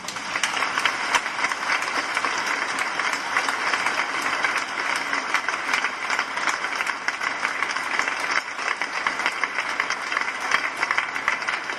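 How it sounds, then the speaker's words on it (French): Sustained applause from a congregation at a farewell Mass in a church, greeting the deacons; dense, steady clapping fills the whole stretch without a break, moderately loud with a reverberant hall feel. "que vous les applaudissiez."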